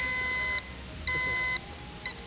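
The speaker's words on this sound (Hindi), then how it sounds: "होशियार ने बजर दबाया है।" Game-show buzzer pressed during a televised Ramadan quiz segment, sounding as a sustained electronic beep-tone: two long loud tones about half a second each, then a short faint blip, with no talk.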